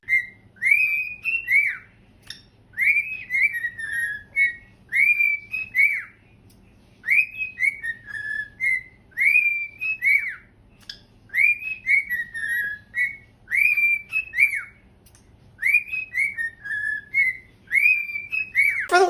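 A person whistling an imitation of the Death Star alarm, repeated rising-falling whistled phrases in a steady rhythm, with a pet bird's chirps and whistles mixed in close by.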